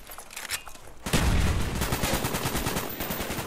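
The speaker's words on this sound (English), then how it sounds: "but it's getting shot" Sustained automatic gunfire in Call of Duty Black Ops: a sharp onset after a quieter second, then a dense, loud, continuous rattle of shots that carries on to the end.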